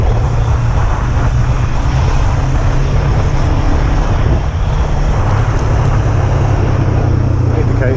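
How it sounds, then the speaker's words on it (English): A Kawasaki ER5 motorcycle being ridden, a loud, steady engine drone mixed with heavy wind rush throughout, close and continuous. "It's got a lovely tick over."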